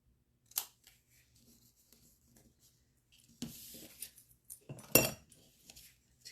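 Scissors snipping through tear and tape, a few sharp close cuts and crinkles separated by quiet pauses, with no talking.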